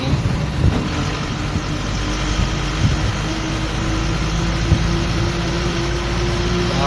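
Traffic on the Samruddhi expressway, a steady loud roar of engines and road noise from passing vehicles, heard from inside a moving vehicle with no talking.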